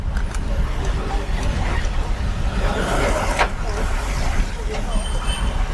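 Traffic on the Mumbai–Goa highway NH66 near Pali, with buses, cars and trucks rumbling past close by in a steady low roar and a brief hiss partway through.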